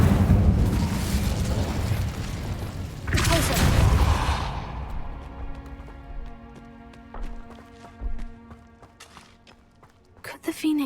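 The Incendio fire spell in Hogwarts Legacy bursts out as a loud roaring whoosh, followed by a second blast and a fading crackle. Scattered game effects and footsteps follow, and a voice speaks during the clip.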